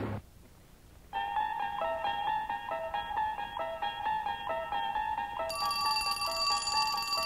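A telephone rings before an answering machine picks up, a repeated electronic trill of bright tones in a steady pulsing rhythm, rising to a higher pitch toward the end, heard alone at a moderate distance.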